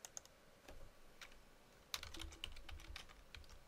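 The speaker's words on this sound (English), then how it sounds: "Typing in the password, secret one." Computer keyboard used to type a password while connecting to a database, with sparse, close key clicks in small bursts and pauses, some strokes sharper, in an otherwise quiet room.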